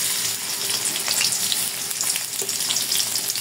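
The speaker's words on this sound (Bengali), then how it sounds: "তেল গরম হয়ে গেছে, আধা কাপের মতো পেঁয়াজ কুচি দিয়ে দেব।" Chopped onion fries in hot oil in a wok, a continuous loud sizzle with crackling pops throughout, nearby and without talk.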